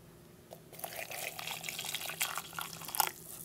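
Water pours into a South African military 24-hour ration pouch, a steady trickling splash rising and falling for a few seconds, close and moderately loud with no talking.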